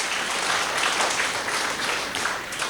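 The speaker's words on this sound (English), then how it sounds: "We'll give them a round of applause" Warm applause at a silver jubilee celebration of religious profession in Bethany, Bendur, a steady burst of many hands clapping together, close and even throughout the short stretch.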